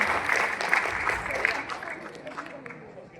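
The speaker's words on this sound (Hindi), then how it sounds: "आप लोग दाद और तालियों से नवाजे" Audience applause at a poetry recitation competition at a university, a steady patter of clapping that slowly tapers off, with some crowd murmur mixed in.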